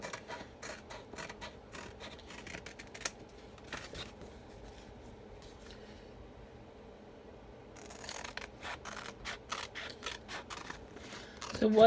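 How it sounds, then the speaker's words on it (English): Scissors snip through a paper transfer along printed lines in a run of crisp, rapid cuts, close and fairly quiet, with a pause in the middle and a voice speaking at times. "Then you just cut on those white lines."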